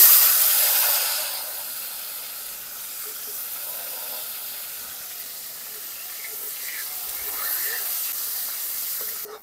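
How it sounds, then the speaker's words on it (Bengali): Whole cardamom, dried red chilli, cinnamon and cloves with small potato pieces sizzling in hot oil for a Bengali rice and pointed gourd dish, a loud burst of hiss at first settling into a steady, moderate frying crackle. "আমি এখন তেলে ফোড়ন দিয়ে দেবো, 2টো এলাচ, একটা শুকনো লঙ্কা, একটা দারচিনি আর 2টো লবঙ্গ"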